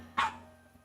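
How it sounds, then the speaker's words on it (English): A single short dog bark named PJ sounds once from the background, a brief burst over a low steady hum, followed by quiet. "I'm so sorry if you guys hear PJ barking in the background."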